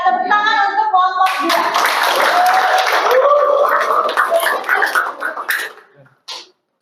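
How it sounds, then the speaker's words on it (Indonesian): A classroom of students claps for a presenting group, a brief burst of hand claps that starts after some talking and soon thins out into scattered claps and quiet. "ya tepuk tangan untuk kelompok"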